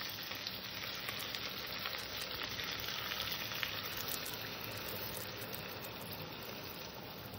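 Steady, hissing sizzle of boiled milk poured over pointed gourd (potol) frying in a pan, continuous and fairly quiet, with no talking.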